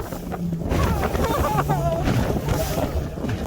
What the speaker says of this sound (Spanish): El viento provoca que el lago tenga olas